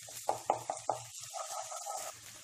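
Onion and ginger-garlic paste fry in a pan on a high flame, giving a soft steady sizzle. A spoon knocks against the pan four times in a quick run, followed by gentler stirring scrapes.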